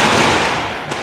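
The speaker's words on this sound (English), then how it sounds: "Here's some fireworks going off." Fireworks crackle and boom continuously during Chinese New Year celebrations, a dense, loud wash of bursts with a sharper pop near the end.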